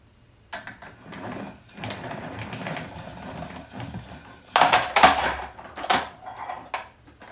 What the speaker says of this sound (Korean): 실을 감고 돌려줍니다.